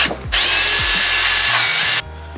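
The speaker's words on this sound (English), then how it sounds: "Oh, this chuck on this drill drives me insane." A power drill whirs loudly and steadily for under two seconds, preceded by a few soft clicks and handling knocks, then stops abruptly.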